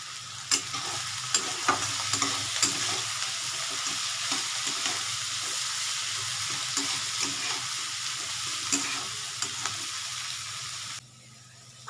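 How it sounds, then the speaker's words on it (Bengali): A spoon stirs pav bhaji mixture with Kashmiri chili powder in a pan, giving a steady frying hiss with repeated scraping strokes, close and fairly loud, dropping off abruptly just before the end. "এটা আমি নাড়তে থাকি"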